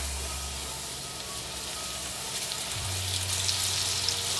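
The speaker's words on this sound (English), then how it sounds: "Let the pork chop cook for about 2 minutes on each side, flipping the pork chop every minute." A floured pork chop fries in hot oil in a pan, giving a steady, close sizzle and crackle that grows slightly louder and busier toward the end.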